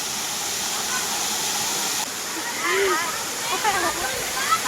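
Daringbadi rainbow waterfall pours in a loud, continuous rushing roar, with people talking faintly over the water noise.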